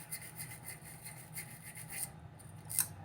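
A clarinet mouthpiece being scrubbed clean around the guard, a soft, steady brushing rasp in quick repeated strokes, close and fairly quiet, with a sharper scrape near the end.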